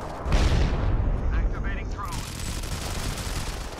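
Explosions and gunfire in the mobile shooter Modern Combat 5 during a squad battle match: a loud, dense burst of booming blasts and shots in the first two seconds, then a steady rumble of continued firing.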